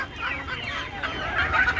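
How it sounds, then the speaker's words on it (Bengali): Free-range native chickens cluck steadily nearby on a rooftop poultry setup, a continuous close flock chatter with no talk. "এভাবে দেশি মুরগি পালন করি এভাবে চাষ করি"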